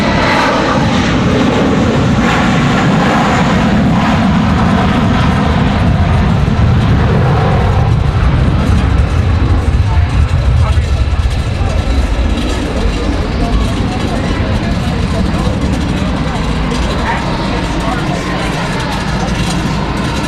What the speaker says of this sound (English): Next departure is going to be American Airlines. It's going to be that A321, I believe, headed back to Charlotte.